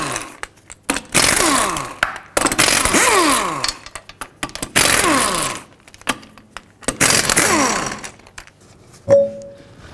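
Lug nuts being removed from a 2007-2009 Saturn Aura front wheel with a power impact tool, five loud whirring, rattling bursts separated by short pauses, up close.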